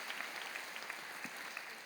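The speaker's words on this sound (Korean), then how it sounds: "여러분 그의 박수로 환영하시지요" A church congregation gives light applause to welcome a new minister during a service. The scattered claps are soft and somewhat distant and continue steadily without any voices.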